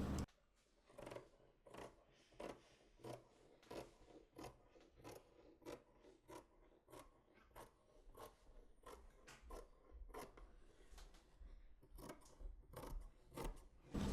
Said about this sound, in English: I start cutting from the waistline.